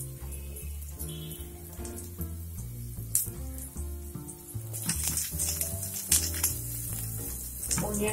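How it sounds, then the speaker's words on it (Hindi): Onions sizzling and frying in hot oil in a pan for a cheesy chicken roll, a steady crackling hiss throughout, heard alongside background music. "तेल गरम होने के बाद उसमें हम ओनियन डालेंगे।"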